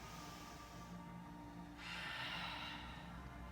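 Deep, steady breaths during a yoga class, a long soft airy exhale that swells into a louder, breathier rush of air partway through, close and alone with no talking.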